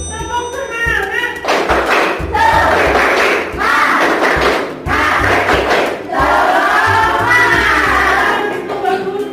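A school class performs a rhythmic clapping chant, children shouting in unison between bursts of hand claps and thumps, loud and close in several energetic phrases with brief pauses.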